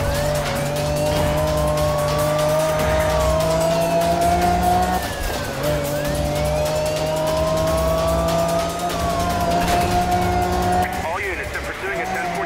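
A car skids and squeals its tires under a touchy handbrake in Need for Speed Rivals, with a loud, continuous engine whine rising and falling as gears shift, plus a sharp skid near the end.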